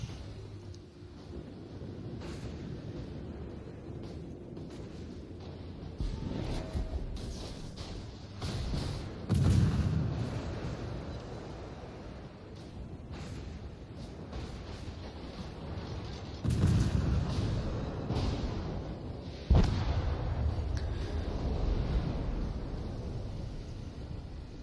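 Torpedoes strike an enemy Colorado battleship in a naval video game, with several muffled booms and thuds rising out of a low rumbling battle bed, fairly quiet, spaced across the stretch.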